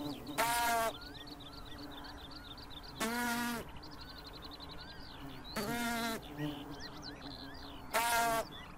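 Mating willow Colletes wild bees buzz in four loud, close bursts spaced a few seconds apart, with fainter insect hum and birdsong in the background between them.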